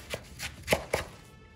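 A knife cuts down through a Chinese cabbage heart on a board, quartering it in a few crisp chopping strokes, two of them sharper and louder, close by with no talking.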